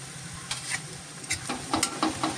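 A spoon stirs methi potato bhaji with grated fresh coconut, garlic and salt in a pan, giving several soft scraping strokes over a faint sizzle, close and quiet.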